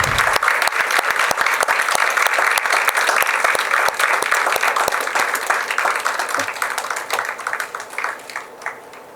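An audience at a Carnatic music trust award function claps steadily for several seconds, the dense applause gradually thinning and tapering toward the end.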